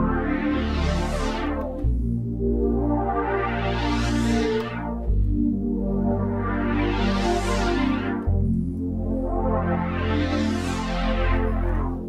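A synth patch in Arturia Pigments 3, built on an analog sound and embellished with vintage 80s digital effects, plays four long rising and falling sweeps over a steady low bass, loud and alone.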